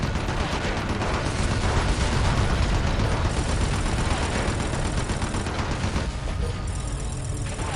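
Dense, relentless gunfire and blasts in Red Faction II form a loud, continuous roar of shooting and explosions that barely lets up for the whole stretch.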